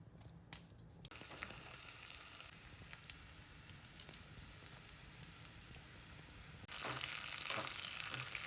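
Dried red chillies torn and dropped into hot oil to temper a mango curry: faint, steady sizzle and crackle with soft clicks, swelling louder near the end as frying picks up.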